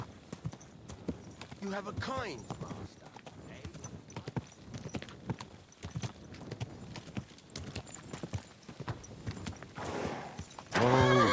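Horse hooves clip-clopping in Kingdom Come: Deliverance, a steady run of close hoof strikes with a brief whinny partway through, under a man's spoken lines.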